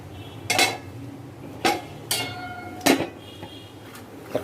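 A metal lid set down over a pot of beef kacchi biryani in a home kitchen, giving several sharp clinks and knocks spaced about a second apart against quiet background.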